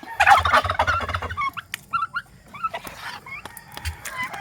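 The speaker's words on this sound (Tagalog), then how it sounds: "Ang tapang-tapang nitong isang pabo." Turkeys gobble close by, a loud burst of rattling calls first, then scattered shorter gobbles and clucks from several birds.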